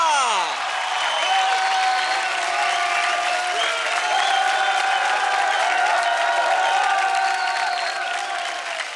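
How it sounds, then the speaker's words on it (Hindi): A studio audience on a Dance India Dance TV episode breaks into strong, continuous clapping and crowd noise, with music playing beneath. "जोरदार तालियां हो जाए रेमो के रंगीले से"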